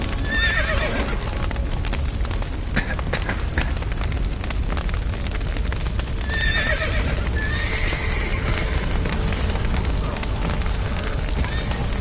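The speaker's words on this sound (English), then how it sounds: "The horses!" Horses whinny loudly and hooves clatter at a gallop in The Witcher game, with shrill neighs breaking out several times over a steady roar of crackling fire and commotion that fills the whole stretch.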